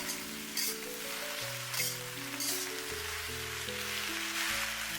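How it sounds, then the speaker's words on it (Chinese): Cabbage leaves stir-fry over high heat in a wok, a dense, crackling sizzle with occasional louder bursts as they are tossed, running steadily under soft background music. "最后倒入控干水分的包菜叶，全程开大火，快速翻炒"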